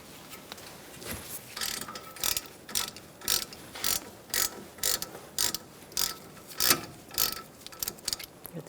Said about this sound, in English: you're going to use a 7mm Allen wrench to remove these slide bolts